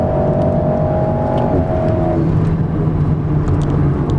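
An Alpine A110 sports car engine accelerates loud and close from inside the car, a steady droning roar with a whining tone that shifts partway through, over constant road and wind noise.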